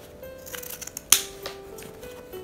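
Scissors cutting through ribbon while making a bow: one sharp, close snip stands out mid-clip, surrounded by soft rustling and handling sounds.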